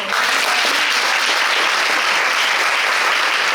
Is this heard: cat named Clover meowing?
no